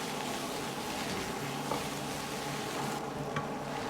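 Cabbage stems stir-fried in vegetable oil in a wok over medium heat give a steady, close sizzle throughout, with a couple of faint clinks of the turning utensil.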